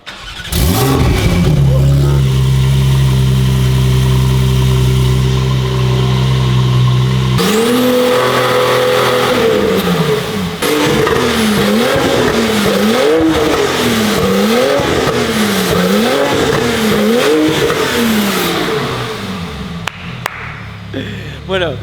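A car engine idles with a steady low drone, then cuts off and restarts, rising into a series of repeated loud revs that climb and fall rhythmically before a few final blips, close and dominant.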